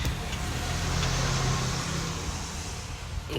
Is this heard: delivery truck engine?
yes